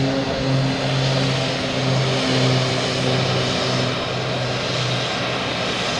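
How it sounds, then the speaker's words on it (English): A loud airplane engine at Boston Logan Airport gives a steady, close roar with a droning low hum that holds throughout and masks all other sound. "We got a loud boutique airplane right here in front of us."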